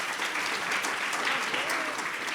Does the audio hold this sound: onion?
no